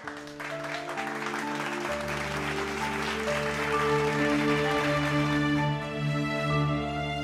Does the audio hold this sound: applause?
yes